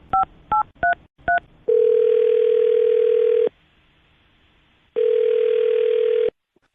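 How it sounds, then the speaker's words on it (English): A telephone keypad beeps out four short dialing tones, then two long steady ringback tones sound with a silent gap between them, close and clear. "I'm going to dial his phone number right now and see if we can figure it out"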